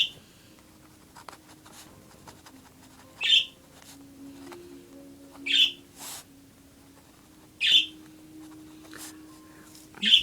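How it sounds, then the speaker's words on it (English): Birds give sharp, bright chirps about every two seconds, fairly distant, heard over soft pen scratching on paper while ink is laid down. "Nice chirping, Dr. Chi."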